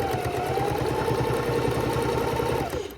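A home sewing machine stitches fabric squares for drink coasters, running at a steady, loud, even buzz with a quick mechanical pulse that winds down at the end.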